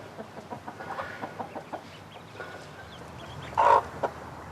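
A hen clucks on a farm in a Camphill community, giving a string of short, soft rhythmic clucks followed by one louder, sharper call near the end, with quiet background between.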